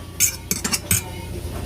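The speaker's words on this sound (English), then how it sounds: "I'm just gonna mix it really good" A utensil clinks and scrapes against a bowl in a few quick, bright strikes while pandesal yeast mixture is stirred, close and moderately loud with quiet gaps between hits.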